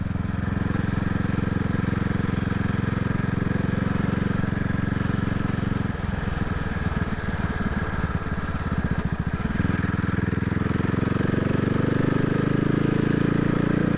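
A CCM Spitfire motorcycle with its exhaust baffles fitted runs close by in a steady, loud, rumbling idle, shifting to a rougher, pulsing throb partway through before settling back, with no talking.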